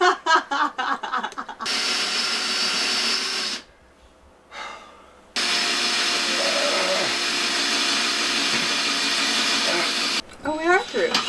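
A power drill grinds slowly through a hole being widened with a bigger bit, running in two long, loud stretches separated by a brief pause, with people talking around it.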